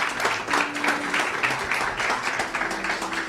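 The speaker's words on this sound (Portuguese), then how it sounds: "Dê um aplauso a Jesus por isso." Applause rises from a church congregation, a moderately loud stretch of clapping that swells and dips with a few scattered individual claps standing out.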